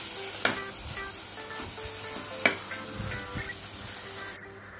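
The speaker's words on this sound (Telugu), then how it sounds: "ఈ కాజు పేస్ట్ కూడా ఒక 1 మినిట్ ఆయిల్లో ఫ్రై అవ్వనివ్వాలండి" Cashew paste sizzling and frying in hot oil for a palak paneer gravy, a steady close crackle with two sharp stirring clinks and no talking.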